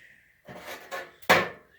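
A metal tool box drawer on a Union tool box is pulled and spread apart, giving a scraping slide followed by a sharp metallic clack, close and fairly loud against a quiet background.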